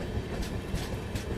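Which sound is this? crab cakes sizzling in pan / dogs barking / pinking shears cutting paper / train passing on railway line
train passing on railway line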